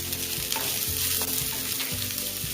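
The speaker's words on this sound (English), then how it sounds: "Quickly saute this." Spring onions sautéing with ginger and garlic in a hot pan for Indo-Chinese veg Manchow soup, making a steady, dense sizzle with regular scraping strokes of a spatula, close and fairly loud.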